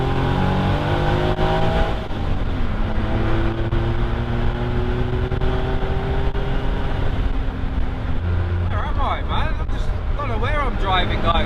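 Caterham 7 sports car engine driving steadily, pitch rising and dropping through gear changes, loud and close from inside the open cockpit, with wind noise and a voice joining near the end.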